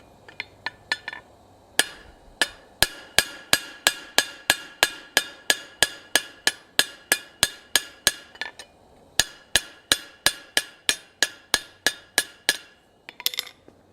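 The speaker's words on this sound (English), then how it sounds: "we're going to just drive that rivet down nice and tight" Steady hammer blows ring on metal as a rivet is driven down on a forged ladle handle: dozens of bright, evenly spaced clinks with a short pause partway, close and loud, with no speech.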